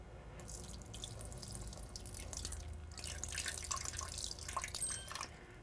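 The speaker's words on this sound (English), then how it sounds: "Watch what happens when I add the water." About half a cup of water poured from a glass into a Vitamix A2300 blender jar, a close, steady trickling and splashing stream that runs for several seconds without any talking.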